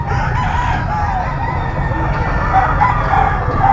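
A ball stag gamefowl rooster crows at a busy Bocaue market, its calls rising over a dense, steady bed of crowd and market noise.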